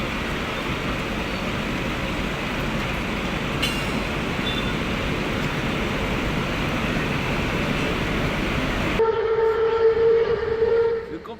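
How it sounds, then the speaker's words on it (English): Modern electric locomotive rumbling past loudly at close range, a broad continuous roar of rolling wheels and motors, then a sustained horn blast near the end as the roar drops away. "When the rare steam locomotive is expected, but a modern electric one ends up dominating the moment"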